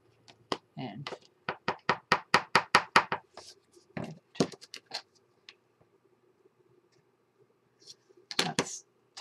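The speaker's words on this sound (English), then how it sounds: "You can hammer it down just a little." Light hammer taps on a part of a boot-shaped coffee pod holder, a quick run of sharp close knocks in a steady rhythm followed by a few scattered taps.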